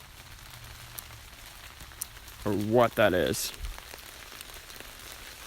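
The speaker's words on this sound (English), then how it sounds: "And it just started to rain. It's not raining, it's more like it's sprinkling, but I guess the trees are letting out because it rained earlier." Light rain sprinkles in the woods, with leftover water dripping from the trees after earlier rain, making a faint, steady patter throughout while a person speaks briefly in the middle.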